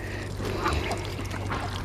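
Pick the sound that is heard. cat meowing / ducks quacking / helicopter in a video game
ducks quacking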